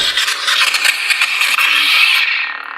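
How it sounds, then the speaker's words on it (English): Close, steady threaded rasping of a lightsaber speaker pod being unscrewed by hand on an Obi-Wan Kenobi replica hilt with a Proffie board, a continuous scraping rub that fades out near the end. "Unscrew the speaker pod."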